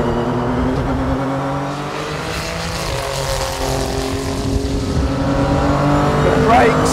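A Renaultsport RS.01 engine revs and pulls hard close by, its note rising steadily as it accelerates, with some talking over the roar.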